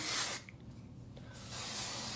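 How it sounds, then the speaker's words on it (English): Bumble aerosol dry shampoo is sprayed onto hair in two close, loud hissing bursts with a short quiet pause between them. "It's an aerosol dry shampoo."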